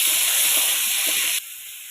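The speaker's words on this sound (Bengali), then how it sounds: "তেলে টমেটো দিয়ে দেবো" Tomatoes dropped into hot oil for a Bengali potato curry, giving a loud steady sizzle and hiss that drops abruptly to a quieter fry near the end.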